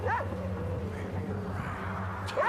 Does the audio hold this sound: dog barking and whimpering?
yes